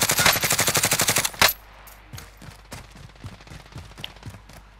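Rapid automatic gunfire in the Call of Duty Warzone battle royale game: a loud sustained burst of evenly spaced shots, then a single heavy shot followed by quieter, scattered distant shots.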